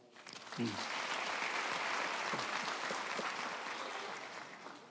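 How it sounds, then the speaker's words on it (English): A graduation ceremony audience at a South African university breaks into a round of applause for a professor, a broad, sustained crowd clapping that swells quickly and then slowly thins toward the end, with a voice briefly heard at the start. "can we give a round of applause to Professor Boya?"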